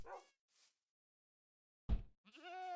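A goat in a zoo-building video game gives short bleats, a few brief calls separated by silence, ending in a longer drawn-out bleat, clear and close with no talk.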